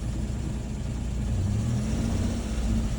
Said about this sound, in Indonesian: ada perubahan pada suara mesin, ada perubahan pada suara mesin lebih membesar, tapi kembali ke normal